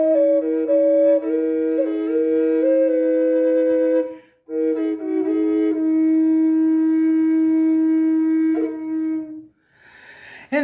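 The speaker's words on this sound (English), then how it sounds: "Then I add in the drone." A holeless walking stick drone flute sounds a melody over a steady low bass E drone, two tones at once, loud and continuous with a brief break midway, ending in a breathy rush.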